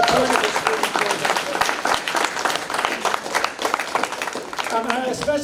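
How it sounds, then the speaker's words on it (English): Audience applause at a student program event, a lively crowd clapping loudly and steadily throughout, with voices mixed in beneath the clapping. "please give yourselves a great round of applause for your support of the student program"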